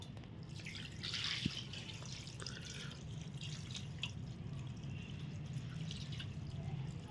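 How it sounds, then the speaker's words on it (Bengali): Palm fruit is rinsed with water, giving soft continuous splashing and dripping with a few small clinks, fairly quiet and close. "এখন জল দিয়ে ভালো করে ধুয়ে নেবো"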